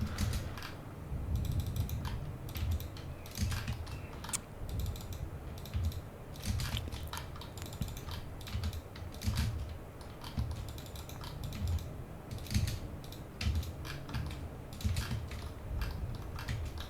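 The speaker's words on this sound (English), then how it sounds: "now we can type we can type" Computer keyboard typing during a SketchUp modeling session, a quiet, steady run of soft, close key clicks and taps with irregular rhythm, alone without voices.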